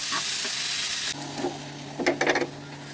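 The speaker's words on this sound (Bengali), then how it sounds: "এবার দিয়ে দেবো আমি এই যে আলু গাজর আর এভাবে নেড়ে ছেড়ে ভাজতে থাকি" Potatoes and carrots stir-fried in hot oil: a loud hiss at first, then quieter sizzling with bursts of spatula scraping and tossing near the end.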